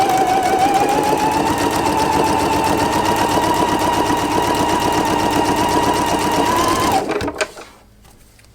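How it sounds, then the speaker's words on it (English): A sewing machine runs a continuous fast stitching seam on a flying geese quilt block, a steady rapid mechanical chatter lasting about seven seconds before stopping abruptly, followed by a couple of small clicks. "And I'll go ahead and stitch directly 1/4 inch away from the side."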